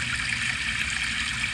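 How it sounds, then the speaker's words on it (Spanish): A steady stream sound plays as an iPhone background noise, a continuous soft rushing and trickling water hiss with no other sounds. "Ahí está el arroyo."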